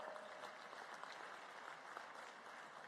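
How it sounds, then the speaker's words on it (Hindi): A crowd at a Ladli Behna women's welfare rally in Madhya Pradesh applauds steadily, a dense, even patter of many hands sustained throughout at moderate distance without speech. "आप हाथ की ताली तो बजाओ।"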